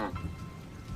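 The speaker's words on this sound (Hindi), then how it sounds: "एक रात झमाझम बरसात होती है" Heavy monsoon rain pours down at night in a village, a dense continuous hiss of drops over a low rumbling wash, steady and close with no voices.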